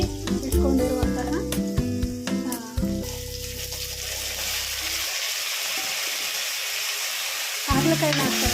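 Bitter gourd frying in a pan for a gourd curry gives a steady, close sizzle under some background tones, with a few clinks early on and a short louder burst near the end.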